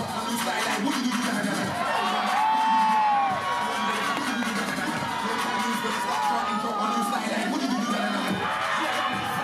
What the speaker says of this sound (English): Oh, crowd's loving this one.